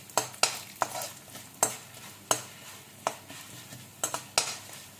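Urad dal and coriander seeds dry-roast in a pan, four spoons of each, for a raw mango and ginger pickle. A spoon scrapes and stirs in a steady series of sharp strokes over a soft crackle, with no talking.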